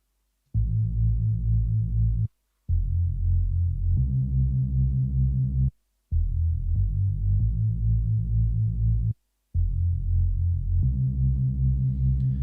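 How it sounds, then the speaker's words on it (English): Looped Reese bass sample from a jungle track, playing alone as a loud, deep, droning sustained tone in four phrases separated by short gaps, with a slight throbbing movement. "I've actually got the original Reese bass."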